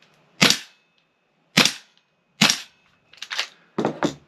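A Tokyo Marui MWS gas airsoft rifle fitted with a short magazine fires five sharp, loud cracks, three spaced about a second apart and then two quicker pairs of pops, each with a brief hiss.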